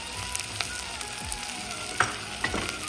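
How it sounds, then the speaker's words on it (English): Ginger garlic paste sizzles and crackles in a hot pan for a mixed vegetable gravy, a steady frying hiss broken by a few scraping stirs, close and fairly loud. "Now I'm adding some ginger garlic paste,"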